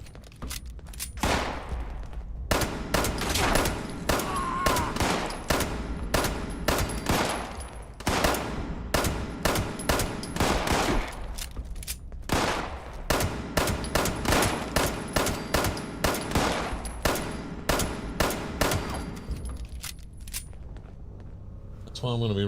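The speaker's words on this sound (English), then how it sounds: "Damn, pumping a lot of rounds into him." Rapid bursts of gunfire from the Fallout 76 video game on PC, loud and repeated throughout, with short pauses between volleys and talking over the shots.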